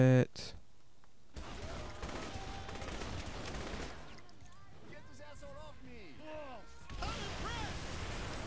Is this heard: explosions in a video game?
yes